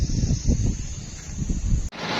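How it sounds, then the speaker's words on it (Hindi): Cold wind in the Murree hills of Pakistan buffets the microphone with a low, gusting rumble and a steady airy hiss, close and continuous before briefly cutting out. "इधर काफी ठंडी ठंडी हवा चल रही है"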